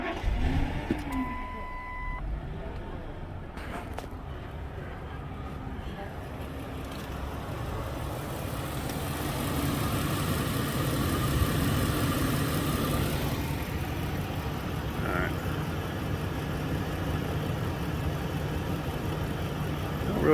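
Car engine with a P0171 and P0174 lean fault cranking, catching and settling into a steady idle, a continuous mid-pitched hum with faint beeps early on.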